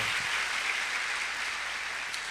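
A church congregation applauds steadily, a continuous wash of hand claps filling the space at moderate distance without a break.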